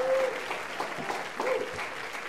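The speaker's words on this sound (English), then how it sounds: "Give her a round of applause." Audience applause at a late-night talk show taping, a steady wash of clapping from a studio crowd lasting a couple of seconds with a few cheers mixed in.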